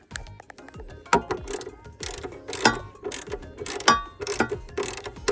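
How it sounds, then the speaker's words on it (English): On a 2020 Mercedes-AMG G63, a battery bracket is bolted into place with a ratcheting tool, giving close, rhythmic metallic clicks and clacks in quick irregular runs, with no talking. "I'm going to place it in there and bolt it."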